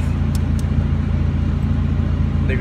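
A slammed, very low Mazda Miata drives along a road, giving a steady, loud low rumble of engine and road noise heard from inside the car, with no talking.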